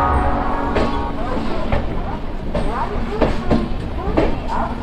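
Passenger train departing Howrah station, heard from inside a carriage: low rumbling rolling noise with intermittent clanks and squeals, while people talk nearby.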